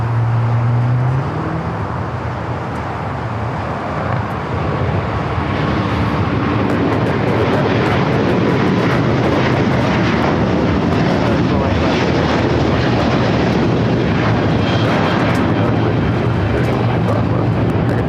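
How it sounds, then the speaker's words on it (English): An Airbus A350-1000 takes off for Tokyo Haneda, its broad engine roar holding loud and steady for the whole stretch, mixed with a low rumble and people talking underneath. "Flight 15 taking off to Tokyo Haneda on the A350 1000"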